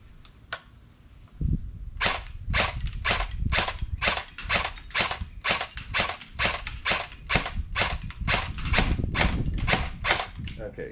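An LCT LC-3 airsoft AEG rifle fires BBs in a long string of sharp, evenly spaced cracking shots, close and loud, after a single shot and a brief mechanical clunk at the start.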